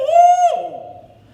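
A person imitates a barred owl call with the mouth: a single loud, close hooting note that holds steady, then slides down and trails off, with no other sound around it.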